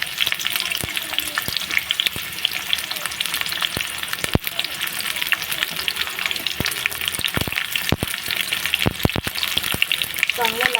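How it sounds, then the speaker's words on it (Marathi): Onion, garlic and ginger fry in hot oil in a pan for hotel-style anda masala, a loud, steady sizzle broken by sharp scraping knocks as the mixture is stirred, with no talking. "कांदा भाजून घेऊया।"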